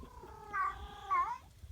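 A female cat in heat caterwauls outdoors on a cattle pasture, two drawn-out, wavering yowls in quick succession, fairly close with quiet ambience between.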